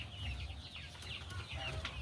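Chickens of a raised breed clucking in their pen, a steady busy murmur of several birds with occasional higher calls over low background noise, no talking.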